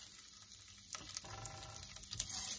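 Chana dal and urad dal roast in a pan for nalla kaaram podi, a faint, soft crackling sizzle with light stirring scrapes, heard alone and close.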